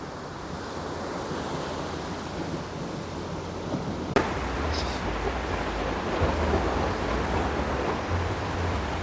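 Ocean surf rolls and breaks continuously on a beach, a loud steady roar of waves with wind and no talk.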